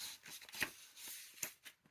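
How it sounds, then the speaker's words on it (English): Quick papery riffling bursts of cards being shuffled, close and fairly quiet, several short ruffles with brief pauses between them. "I'm going to shuffle the cards"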